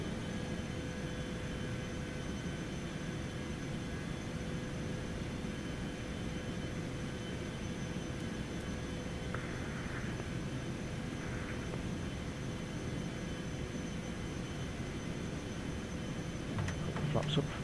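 A Cessna Citation 750X business jet climbing after takeoff, heard as a steady, even cabin roar of jet engines that fills the whole stretch, with a slight swell at the very end.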